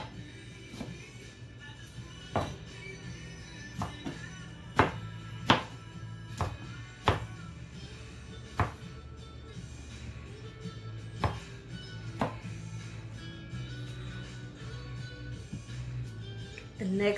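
A knife chops cucumber on a cutting board for kinilaw, a Filipino raw fish dish, giving about a dozen sharp, separate thunks at an uneven pace over a steady low hum.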